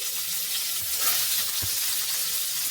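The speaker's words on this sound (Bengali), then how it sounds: "এবার আমি এর মধ্যে কুচিয়ে রাখা পেঁয়াজ দিয়ে দিচ্ছি" Chopped onion frying in hot oil alongside dried red chilies over medium heat, giving a loud, steady crackling sizzle that fills the whole stretch, with a soft utensil knock or two underneath.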